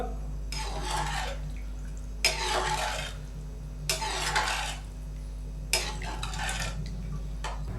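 Spoon stirring Peshawari pulao masala and sugar in a cooking pot, heard as four distinct bursts of scraping and clinking with brief gaps between them, under a steady low hum.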